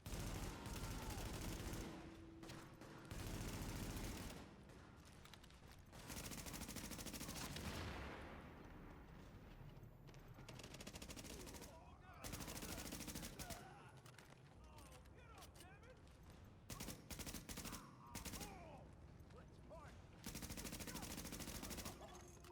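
Bursts of automatic gunfire and rapid shots in The Division shooter game, repeated in loud clusters with short pauses between volleys, mixed with in-game voices and effects.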